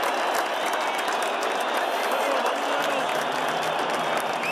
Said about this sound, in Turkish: Erdoğan Ay Yıldızların gollerini alkışladı.